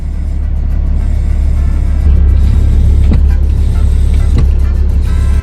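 A Cummins-engined truck driving with the engine and turbo running, giving a loud, constant low diesel drone with rushing noise that swells slightly partway through, heard close up from inside the cab.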